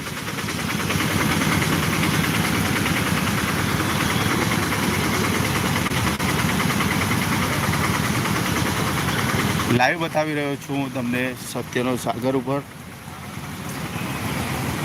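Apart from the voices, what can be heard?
heavy traffic jam with idling engines in Mehsana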